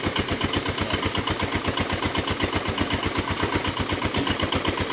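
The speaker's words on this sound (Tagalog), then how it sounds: "Umiikot yung bulmilan natin mga kaibigan." A ball mill for processing gold ore runs under engine power, giving a steady, fast low thumping pulse with a constant mechanical drone, close and loud throughout, with no talking.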